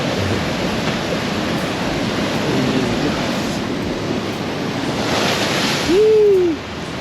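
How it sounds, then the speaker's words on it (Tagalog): Ocean surf washes against the rocky coast at the Kapurpurawan rock formation in Burgos, Ilocos Norte, as a continuous roar with wind buffeting the microphone. A brief faint vocal sound rises near the end. "Grabe na yung dagat."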